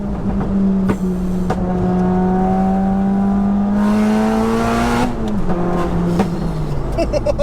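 A turbocharged, four-wheel-drive-converted 601 bhp Cupra R engine holds high revs and climbs steadily, then drops off with a sharp pop and rises again, close by.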